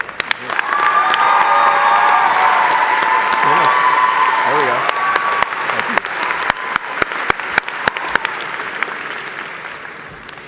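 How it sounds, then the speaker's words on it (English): Audience at a university business school undergraduate commencement applauding loudly, a thick wash of clapping that gradually thins into scattered individual claps toward the end, with a brief voice at the start. "Please stand for a round of applause."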